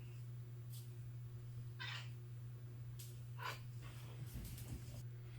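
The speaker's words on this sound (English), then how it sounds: "You can hear her purring" A female orange tabby cat meows several times, hungry for food, over a steady low continuous purr-like hum, close and fairly quiet.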